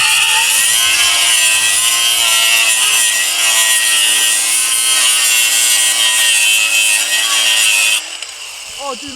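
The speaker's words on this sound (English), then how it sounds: "So here I've got my polisher" Polisher running on a car panel after dent removal, a steady loud high-pitched whine held for about eight seconds before it cuts off and winds down.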